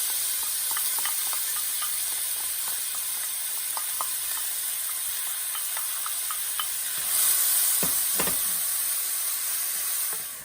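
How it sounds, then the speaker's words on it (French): Onions caramelising in a pan send out a steady close sizzle, with scattered crackles and a few stirring scrapes, the frying growing a little louder toward the end. "mettre à caraméliser les oignons"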